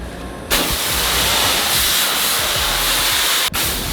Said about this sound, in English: whenever I spray it, it's going to be like high pressure chemical